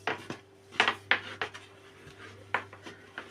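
A rolling pin works börek dough for a spinach börek on a floured surface, giving irregular close knocks and soft rubbing scrapes against a low background hum.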